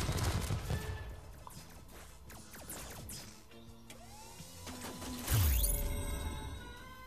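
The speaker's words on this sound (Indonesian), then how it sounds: "Kita tembak pakai roket." A rocket attack in the mobile game Transformers: Earth Wars, heard as layered game effects: whooshes, clanks and rapid firing, then a loud burst of impact near the end, all fairly faint.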